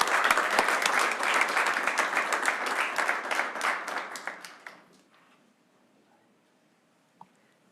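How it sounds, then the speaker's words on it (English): Round of applause at a transit agency board of directors meeting, steady dense clapping from a room of people for about five seconds before it tapers off into near silence, with one faint tap afterward. "everybody here deserves a round of applause for all the hard work that you put in on a daily basis"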